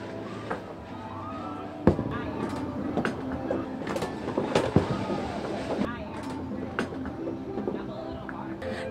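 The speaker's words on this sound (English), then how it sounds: "skee ball. Let's give it a shot." Skee balls roll and thud down lanes at a county fair midway, a continuous rumbling roll broken by sharp knocks, with people talking and crowd noise around it.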